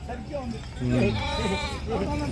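Sheep at the Gudur sheep market bleat in several wavering, drawn-out calls close by, overlapping one another against a busy background of livestock and human voices.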